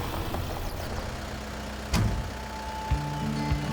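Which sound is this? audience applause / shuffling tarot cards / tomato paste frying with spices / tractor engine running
tractor engine running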